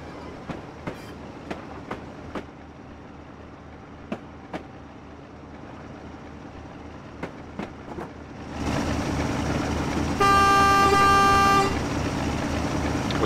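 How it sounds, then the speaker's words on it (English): A locomotive horn toots in a train simulator shunting scenario at Doncaster works, a loud steady two-tone blast of about a second and a half after engine rumble builds, preceded by regular clicking track clatter. "We toot the horn there."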